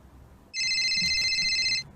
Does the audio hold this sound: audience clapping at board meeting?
no